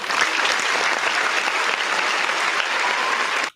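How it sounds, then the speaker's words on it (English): Steady applause from a golf-style crowd, loud and continuous, clapping alone for about three and a half seconds before cutting off abruptly. "I got the golf applause."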